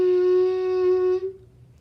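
A clarinet sounds one sustained note, made sloppy by side keys being hit while playing, holding steady for over a second before cutting off, and a little room noise follows the note.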